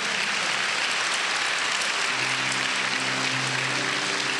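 A church congregation applauds in praise, a dense, loud and continuous wash of many hands clapping that holds steady throughout, with a low murmur of voices underneath.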